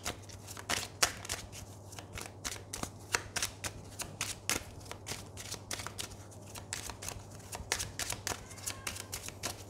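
Tarot cards being shuffled by hand, a rapid series of crisp papery riffles and flicks in irregular bursts, close and fairly quiet over a low steady hum, with no talking.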